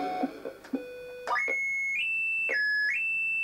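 A metal detector in the Commodore 64 game Pneumatic Hammers gives a few short electronic blips, then sustained beeping tones that step up and down in pitch, loud and with no talking.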